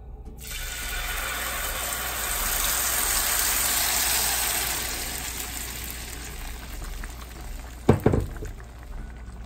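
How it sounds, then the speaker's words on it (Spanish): A steady, hissing sizzle of tomato sauce hitting about a teaspoon of hot oil, broad and continuous, easing slightly, then a brief clatter near the end. "vamos a agregarle aceite una cucharadita aproximadamente y vamos a agregar nuestra salsa."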